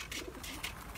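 Taklacı (Turkish tumbler) pigeons in a loft in Mersin, Turkey coo softly in two brief bursts over a faint background hum.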